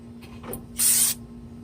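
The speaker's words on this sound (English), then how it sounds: "I'm just going to go ahead and spray the rotor down" A sharp hiss of aerosol brake cleaner sprayed onto a front brake rotor of a 2012-2015 Nissan Sentra lasts about a third of a second, close by, after a couple of faint short puffs.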